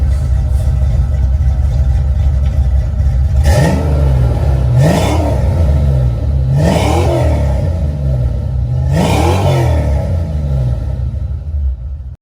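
A Foxbody Mustang with Flowmaster 40 series axle-dump mufflers idles with a steady low burble and is revved four times at regular intervals. Each blip rises loud and close, then falls back to idle.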